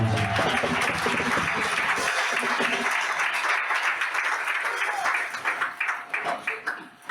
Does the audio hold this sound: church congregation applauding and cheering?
yes